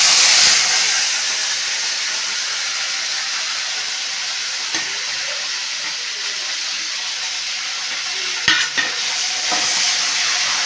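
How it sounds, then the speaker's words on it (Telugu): Dried shrimp fry in well-heated oil with a loud, continuous hissing sizzle, a brief brighter burst at the start and a couple of sharp clinks of a utensil near the end. "అలాగే ఇప్పుడు ఎండు రొయ్యలు అనేవి వేసేసుకుందామండి."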